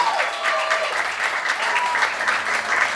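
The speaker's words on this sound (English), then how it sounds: "give her a round of applause." A crowd at a pin-up contest in Symco, Wisconsin applauds steadily, dense clapping at a moderate level with a few brief whistles early on, continuing without pause.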